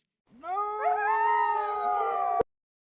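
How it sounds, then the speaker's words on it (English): A fox howls one long drawn-out note that rises and then holds steady for about two seconds, close and alone, ending abruptly. "Fox."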